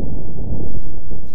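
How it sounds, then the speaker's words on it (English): Martian wind recorded by NASA's InSight lander, pitched up two octaves, comes through as a steady, loud, low rushing roar with a faint thin tone above it and a brief hiss at the very end. "here's the sound of the wind when we increase the pitch to 2 octaves."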